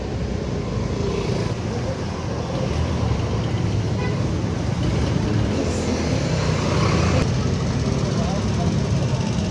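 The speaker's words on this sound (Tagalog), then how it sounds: "Traffic in the city." Downtown city traffic in Davao: a constant, dense roar of cars, buses and motorcycles close by, with voices mixed into the street noise.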